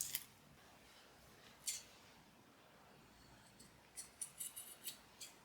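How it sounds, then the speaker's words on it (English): Scissors trim the ends of a sublimation keyfob strap, a few quiet, close snips: one early, then a cluster of small crisp cuts in quick succession near the end, over a faint background hush. "We're going to trim up the ends there and seal them up."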